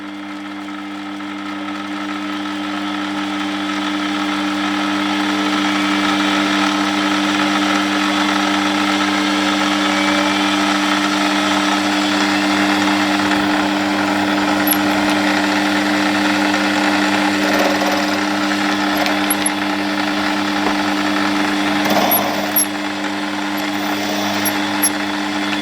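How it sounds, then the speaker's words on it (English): A metal lathe runs steadily while facing off a replacement smokestack part for a vintage American Jensen model steam engine, giving a continuous mechanical hum with a low motor tone and faint cutting noise throughout, with no talking. "So let's go over to the lathe."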